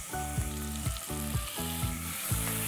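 Chicken sautéing in green masala paste for a spicy chicken rassa curry, a steady close sizzle and frying hiss with rhythmic stirring scrapes, no voices.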